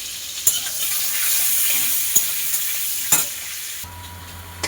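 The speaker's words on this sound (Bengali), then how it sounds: "পটলের সামান্য একটু লবণ দিয়ে পটলটা ভেজে নেব লাল করে।" Pointed gourd frying in hot oil with salt and turmeric, a bright continuous sizzle with a few sharp stirring clicks, close and alone with no talking.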